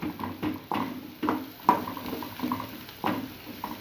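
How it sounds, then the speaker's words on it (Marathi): Onions with chilli powder sauté in a pan on a low gas flame while a spoon stirs and scrapes in regular strokes, each with a soft clink over a low sizzle, close and with no talking. "हे सुद्धा आपल्याला आता चांगलं परतून घ्यायचं आहे"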